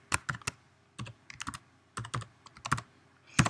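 Keys clicking on a computer keyboard while a folder name is typed, quick clustered keystrokes in short bursts with brief pauses, close and quiet in an otherwise silent room.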